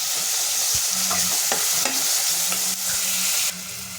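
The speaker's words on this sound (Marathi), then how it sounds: "आता ह्याच्यामध्ये आपण टोमॅटो टाकून घ्यायचे आणि ते सुद्धा आपल्याला तेलावरती परतून घ्यायचे।" Tomatoes sauté in oil with onion in a pan, a close steady sizzle broken by several scraping stirs of a spatula, with no voices.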